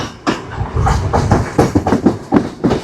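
The Yal Devi train in Sri Lanka runs loudly nearby, with rhythmic clickety-clack from the wheels on the rails over a constant rumble, with no one speaking.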